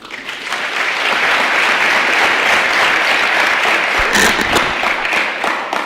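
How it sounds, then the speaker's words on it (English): Loud, sustained applause from a large assembly of students greeting a state representative at a legislative general session, a dense wash of clapping with a few louder bursts before it tapers off. "go ahead and give him a round of applause"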